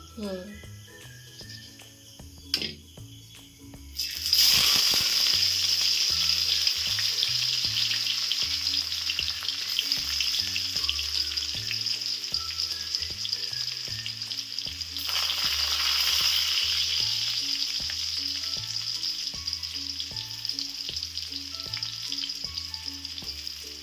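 Onions dropped into hot white oil in a kadai hiss into a loud, steady sizzle after a few seconds of quiet, then keep frying with a fairly even crackle. Repeating background tones run underneath throughout.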